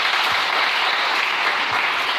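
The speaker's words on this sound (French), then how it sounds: "Est-ce qu'on peut acclamer le Seigneur?" A church congregation breaks into dense, sustained applause to acclaim the Lord, the loud clapping filling the room evenly without a pause.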